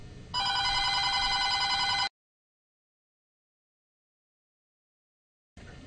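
An electronic telephone ringer trills loudly for about two seconds with steady warbling tones, then cuts off into silence before faint room noise returns.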